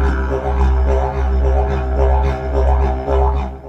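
A didgeridoo is played in the traditional style: a deep, continuous droning tone with a rhythmic pulsing swell, heard alone and close.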